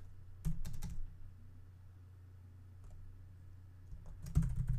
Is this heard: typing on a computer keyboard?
yes